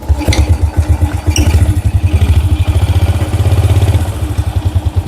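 An old motorcycle engine chugs loudly up close with its exhaust outlet covered, in a rapid, uneven pulsing rhythm, the exhaust sound muffled and throbbing, with a few metallic clicks.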